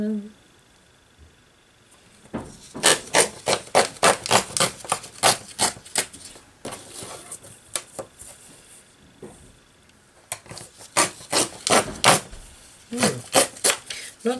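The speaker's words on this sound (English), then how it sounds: "I'm going to use my blade, my hacksaw blade, and I'm just going to tear a couple of strips." Paper strips torn against a hacksaw blade as a straightedge, a run of quick, crisp rasping tears in close succession, a pause, then another brisk burst, recorded up close and clear.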